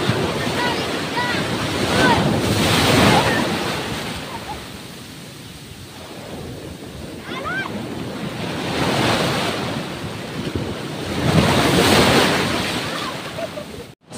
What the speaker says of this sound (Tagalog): ang lakas ng alon, ang lakas, mahirap maligo